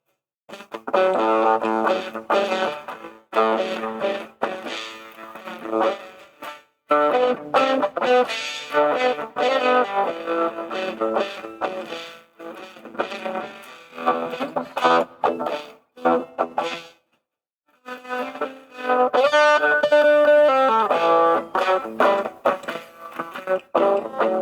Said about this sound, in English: Now I'll turn the distortion on.